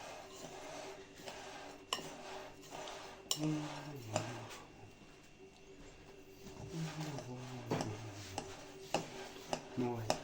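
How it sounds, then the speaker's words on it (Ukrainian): Sweet peanut mixture stirred in a bowl, with repeated clinks and scrapes of a spoon against the dish in an uneven rhythm, close but fairly faint, with someone speaking at times. "Ми перемішуємо, все гарно, треба дуже гарно перемішати, аби не було менше більше арахісу"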